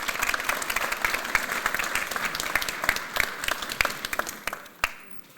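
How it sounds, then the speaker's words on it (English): Audience applauding at a simracing talk, dense steady clapping from a large crowd that thins and ends with a last few claps near the close. "So, give a round of applause"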